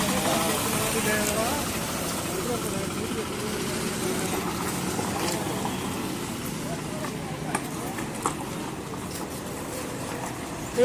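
A used tractor in clean engine condition idles at a tractor market in Moga, Punjab, with a steady, low, continuous rumble that stays even throughout.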